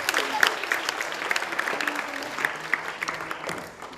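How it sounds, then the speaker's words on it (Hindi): Audience applause at a Hindi comedy show, a steady wash of clapping at moderate level that holds for about four seconds, then thins and fades toward the end. "कृपया तालियों से उत्साह बढ़ाएं।"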